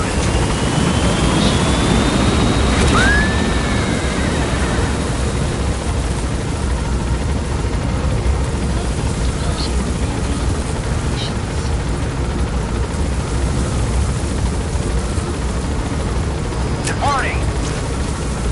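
Helicopter climbing in Metal Gear Solid 5, a steady loud rotor and engine roar filling the whole stretch, with a few brief whistling tones and radio-style voice bits over it.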